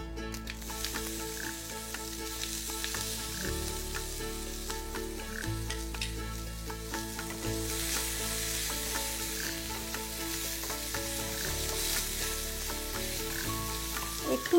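Chana dal cooks in a pan with grated and finely chopped coconut and cardamom, sizzling loudly and steadily while being stirred, with faint sustained tones humming underneath throughout.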